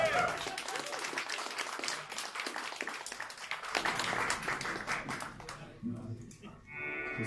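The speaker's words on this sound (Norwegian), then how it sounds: "En applaus for dere, da." Concert audience applauding, a full, steady burst of clapping with scattered voices that thins and fades out near the end, followed by faint guitar tones.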